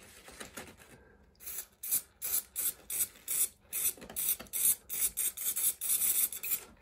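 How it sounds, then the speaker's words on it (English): Repeated short bursts of an aerosol layering spray being applied over static grass on an N gauge model railway tunnel, hissing in a quick rhythm close to the microphone. "the final bit is to use some of the static grass layering spray."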